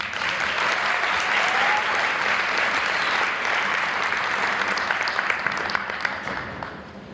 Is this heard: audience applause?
yes